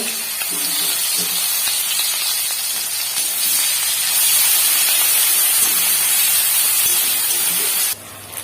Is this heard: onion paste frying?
yes